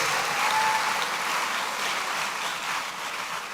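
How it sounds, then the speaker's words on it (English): A large conference audience at the Africa Prosperity Dialogues applauds steadily, a dense, even wash of clapping heard from a distance with no speech over it. "Are you clapping for the man"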